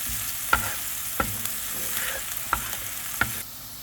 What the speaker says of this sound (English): now that our onions are getting a little translucent and sort of frying up a bit